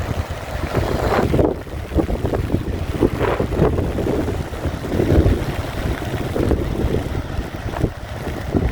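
Heavy rain and gusting wind batter an Isle of Mull wild campsite, a steady broadband roar with buffeting wind noise across the microphone, loud and continuous with no voices.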